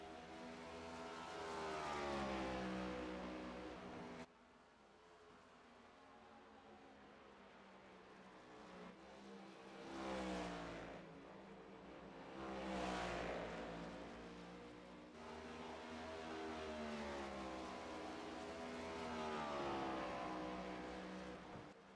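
NASCAR Cup race cars, the official laser-scanned models, lapping the oval at Gateway in the iRacing simulator: loud, continuous engine drones rising and falling in pitch as the cars accelerate and sweep past, with no voices.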